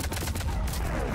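Rapid, continuous automatic fire from a harvester rattles in Mass Effect 3, a dense, loud barrage of overlapping shots with no pause throughout.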